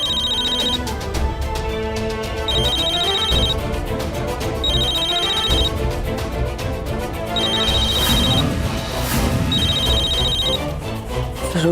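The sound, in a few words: phone ringing at 5 o'clock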